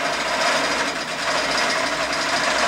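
A Quilt Magician computerized quilting setup on a sewing machine runs a jump stitch across a wreath design, giving a fast, continuous mechanical whir and rattle at close range for a few seconds.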